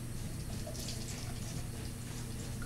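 Water pours steadily onto potted super hot pepper plants, a continuous hissing splash at moderate volume that lasts the whole moment without pause.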